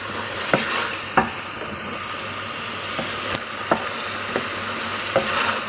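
Chicken and mash dal masala frying in a pan: an even close sizzle broken by a series of sharp spoon clicks and scrapes against the pot as it is stirred, with no talking.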